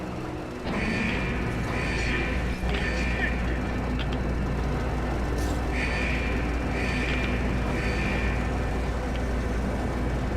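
Elevator machinery in the video game Metro Exodus produces a constant low mechanical rumble with a repeating pattern of creaking, whirring pulses and occasional clanks.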